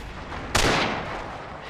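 A petard blast in the World War II shooter Forgotten Hope 2 lands as a single sharp, loud explosion that bursts out over steady background game noise and then rumbles away over a second.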